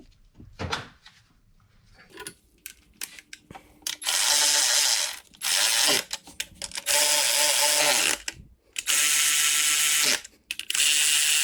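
A ratchet winding nuts onto studs on a 2012 Honda Accord V6 during a spool valve and valve cover gasket job, close quick ratcheting clicks in several long bursts separated by pauses and small clunks.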